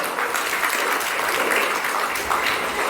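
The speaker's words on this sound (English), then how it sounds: "Please give her a round of applause" A wedding reception audience applauds steadily, dense clapping at even loudness for the whole stretch with no voices over it.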